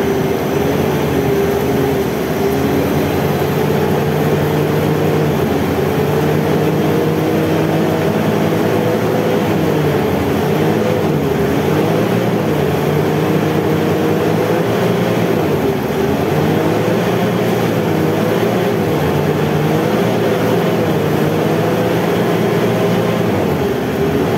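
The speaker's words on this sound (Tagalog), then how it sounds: "O start ulit itong sasakyan." A Ford Everest engine running steadily after its muffler pipe has been cleaned, a loud continuous rumble with a droning low hum and broad exhaust roar that holds for about twenty-four seconds with no talking.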